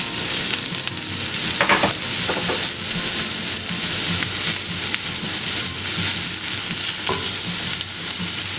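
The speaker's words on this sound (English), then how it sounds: "the first thing we're gonna do is that we're gonna add our portobello mushrooms." Portobello mushrooms fry in an oiled pan with a steady, close sizzle, a few stirring scrapes breaking through the dense crackle, and no voices.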